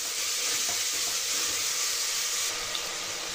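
Tomatoes frying in a pan for a vegetable masala curry give a steady, fairly close hiss of sizzling, dense and unbroken throughout.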